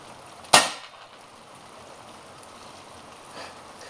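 A newly bought paintball marker fires a single sharp, loud shot close by, followed by a brief decay and then quiet outdoor hiss for the remaining seconds.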